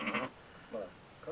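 A newborn lamb at a desert monastery bleats three times in short, fairly close bursts, the first loudest and the later two softer, with quiet pauses between.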